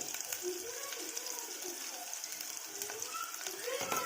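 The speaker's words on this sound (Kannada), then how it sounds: "ಈರುಳ್ಳಿಯನ್ನು ಗೋಲ್ಡನ್ ಫ್ರೈ ಆಗುವವರೆಗೂ ಫ್ರೈ ಮಾಡಿಕೊಳ್ಳಿ" Onions fry in hot oil with cumin and mustard seeds for a bitter gourd curry, a faint, steady sizzle with soft crackles and pops, quiet and continuous throughout.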